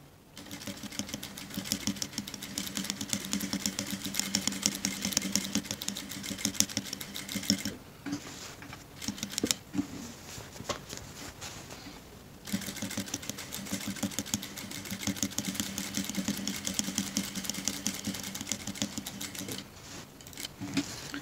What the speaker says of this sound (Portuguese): Coloquei linha preta na máquina. E vou passar agora uma costura de um lado e do outro.